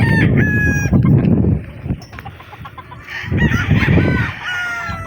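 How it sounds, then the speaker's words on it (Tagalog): Roosters crow loudly close by on a gamefowl farm, long rising calls repeating with brief clucks and squawks between them. "papakain na sila ng mga manok"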